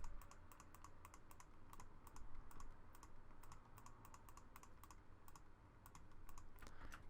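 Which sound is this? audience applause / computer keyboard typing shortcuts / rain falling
computer keyboard typing shortcuts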